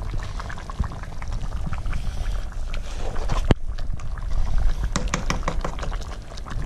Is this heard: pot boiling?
yes